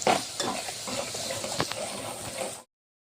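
Garlic and ginger paste frying in hot oil in a pan, a close crackling sizzle with scraping stirs and a few utensil knocks, alone before cutting off abruptly.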